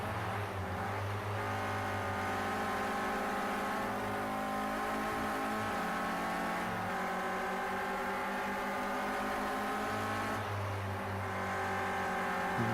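Clio Cup race cars in a racing game run down the back straight at Oschersleben, engines droning steadily at high revs with overlapping tones rising and falling as cars run close together, moderately loud and continuous.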